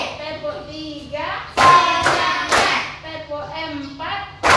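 Schoolchildren led by a teacher clap hands in loud, sharp bursts between chanted counts, with speaking voices filling the gaps between the claps.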